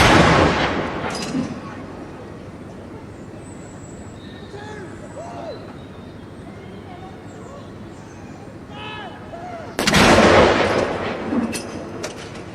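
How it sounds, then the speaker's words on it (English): Ceremonial artillery gun salute fired by the 104 Regiment Royal Artillery in the grounds of Cardiff Castle: a loud booming blast opens, then a quieter stretch with distant crowd murmur and birds, before a second heavy report rolls out. "Now for a gun salute here in the grounds of Cardiff Castle, fired by the 104 Regiment Royal Artillery."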